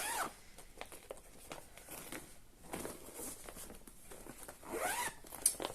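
A bag's zipper being zipped closed indoors, with several quick raspy zipping bursts and light rustling of the bag, fairly close and at low level, with no talking.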